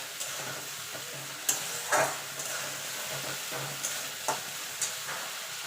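Spice paste for chicken kosha sizzles softly in oil as it is stirred and fried, with a faint steady hiss broken by a few scraping strokes and light knocks of the spatula, close and without talking.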